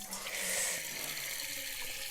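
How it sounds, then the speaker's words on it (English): Tap water runs steadily into a container while water is collected, a continuous close hiss and splash with no talking. "We're getting water, obviously."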